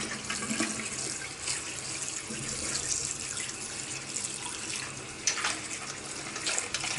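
Tap water runs steadily into a kitchen sink while raw chicken thighs are rinsed under it, a continuous close splashing rush with small sloshes and no talk.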